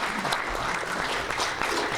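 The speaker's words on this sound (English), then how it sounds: "ask you again to please give a round of applause for Josh, Jill, and Ricky." A club meeting audience claps steadily for the full two seconds, a dense, even patter of many hands from a moderately close crowd with no voices over it.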